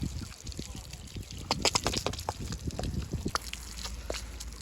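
Water splashes and pours in irregular bursts while a bull named Tufan is washed before brushing and shampooing for the Bail Pola festival, fairly quiet and close, with occasional voices in the background.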